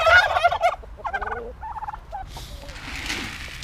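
A farmyard turkey lets out a run of loud, rattling gobbles close by, then gives way to softer scuffling and a wash of background noise.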